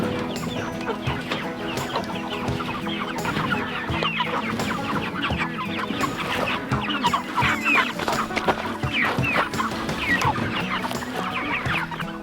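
Backyard chickens cluck and murmur busily nearby, overlapping calls forming a steady, lively chatter with occasional louder squawks throughout.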